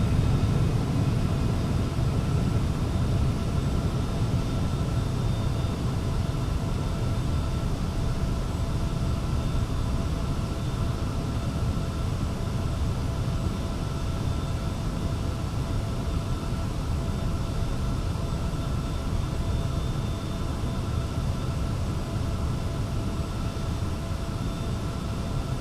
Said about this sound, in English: Gonna slow down here, and we'll take the airplane into a stall.